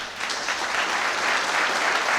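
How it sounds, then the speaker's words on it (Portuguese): A church congregation at an evening worship service applauds in an even, sustained roar of clapping that swells slightly at the start and then holds steady. "Pode aplaudir."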